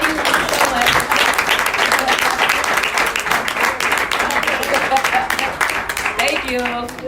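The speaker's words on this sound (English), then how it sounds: "once again, another big round of applause for her closing us out" An audience gives a sustained round of applause after a speaker's closing talk at a business seminar, with steady loud clapping filling the room throughout and brief voices mixed in near the end.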